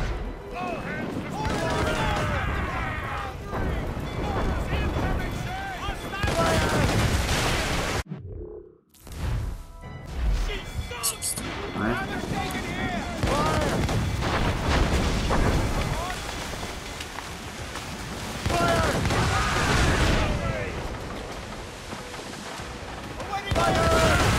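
Ship cannons fire during a naval battle in Assassin's Creed Rogue, with heavy booming blasts and rumbling bursts. A short near-silent gap falls partway through, and the barrage continues loud and dense around it, mixed with shouting voices.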